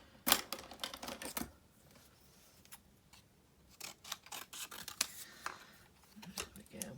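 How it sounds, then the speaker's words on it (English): Scissors cut through paper in quick bursts of close, crisp snips and rustles, separated by a quiet pause, with a person talking in between. "Let's cut this off."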